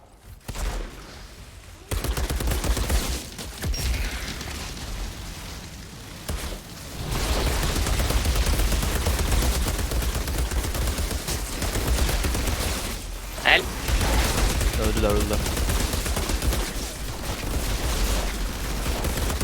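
Rapid gunfire in Outriders, continuous bursts of shots rattling on at moderate loudness for most of the stretch, with a voice talking over it.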